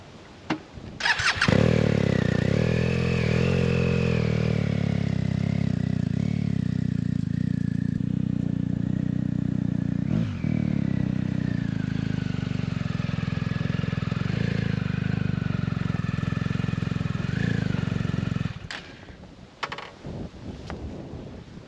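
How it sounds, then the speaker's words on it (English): A large motorcycle starts and runs loudly and continuously for about seventeen seconds, its engine note shifting slightly as it is ridden into a Lone Rider MotoTent, then stops and leaves quiet shuffling. "then we'll start up the bike and we'll put it in there"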